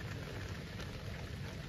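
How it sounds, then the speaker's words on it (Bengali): Heavy rain drums steadily on an umbrella overhead, a dense, even hiss with low thudding patter, loud and close with no talking. "ছাতাতে বৃষ্টি পড়ছে, আপনারা যথেষ্ট শব্দ শুনতে পাচ্ছেন"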